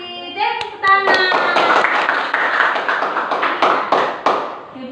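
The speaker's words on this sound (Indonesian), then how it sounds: "Iya, terima kasih. Tepuk tangan." Classroom applause for a student's answer: after a brief spoken phrase, children break into brisk, rhythmic group clapping close by, with a few sharper claps standing out before it tapers off under a voice.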